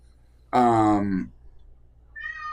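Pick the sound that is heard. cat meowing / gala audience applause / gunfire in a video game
cat meowing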